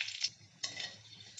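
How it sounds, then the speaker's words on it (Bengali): Panch phoron seeds and a dried red chilli fry in hot oil with a soft, steady sizzle, close and quiet, marked by two brief clinks of a spoon against the pan and no talking. "ওই তেলের মধ্যে এখন দিয়ে দিলাম 1 চামচ 5 ফোড়ন। আর দেবো একটা শুকনো লঙ্কা।"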